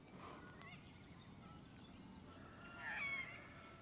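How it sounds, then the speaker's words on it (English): Faint honking bird calls carry from a distance across a quiet outdoor hush, one call rising a little louder near the end. "there are birds going off absolutely everywhere"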